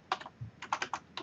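Quick bursts of keystrokes on a computer keyboard, about seven or eight crisp, close taps in an uneven rhythm with no talking.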